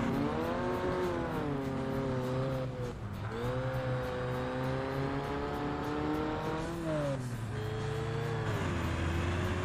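In Ford Racing 3, a Ford F-350 and rival race vehicles rev their engines with steady droning tones that rise and fall through gear changes, with a brief tire squeal, loud and continuous throughout.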